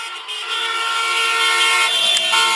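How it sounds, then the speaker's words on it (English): Car horns honk in a sustained chorus from many vehicles in the streets, a loud, continuous blare layered with overlapping tones as crowds celebrate a Broncos football victory. "People honking their horns to celebrate the Broncos' victory."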